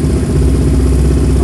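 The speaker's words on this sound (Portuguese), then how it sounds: "a moto já liga, já cai na lenta" A Honda CB300 motorcycle fitted with FuelTech fuel injection idles close up with a steady, loud, even engine rumble and no voices.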